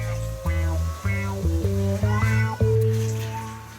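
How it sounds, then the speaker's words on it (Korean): A cat named Bomi meows over and over, a run of loud, drawn-out close calls coming in a steady series, each one rising and bending in pitch, with no other sound around them. "야옹 소리도 거슬리는 모양."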